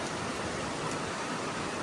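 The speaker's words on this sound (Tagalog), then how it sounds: "Ang lakas po ng ulan." Heavy rain pours down in a dense, unbroken hiss that holds at an even level throughout, with no voices heard over it.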